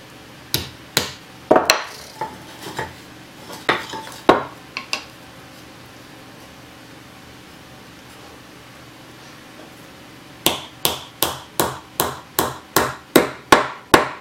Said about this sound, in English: I'm just going to nail these on there using some little wire nails.